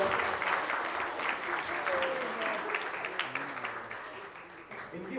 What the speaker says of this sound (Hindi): संजीव आनंद झा की जोरदार तालियां हो जाए